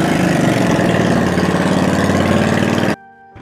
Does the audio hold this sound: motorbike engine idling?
yes